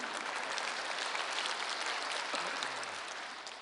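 Congregation in a church service claps in a soft, steady burst that fades slightly toward the end, with no voices over it.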